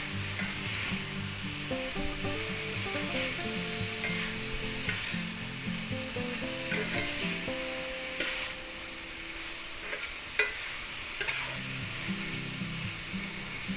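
Ground beef and green onions stir-frying in a hot pan, a steady dense sizzle with intermittent scraping and stirring, continuous and close, no voices.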